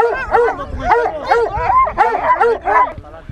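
A hunting dog on a wild boar scent trail gives repeated excited yelps and barks, close and loud in a rapid, uneven series, with whimpering notes and a voice faintly underneath.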